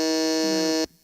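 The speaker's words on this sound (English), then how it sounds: "We need the buzzer." A single game-show style buzzer blares for almost a second in a harsh, steady electronic drone, loud and close, then cuts off abruptly, with no talking over it.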